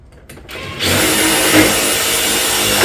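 A power tool fastens a cap onto a tile roof rake ridge, starting after brief handling noise and then running as a loud, steady, close-up whir with slight surges.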